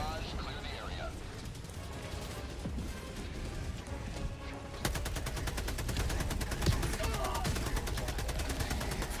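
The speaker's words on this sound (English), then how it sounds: "Requesting orbital. Orbital barrage, clear the area." An orbital barrage in a video game: dense, rumbling gunfire and explosions fill the first half, then a relentless rapid stream of impacts hammers on, loud and sustained, with a voice faint underneath.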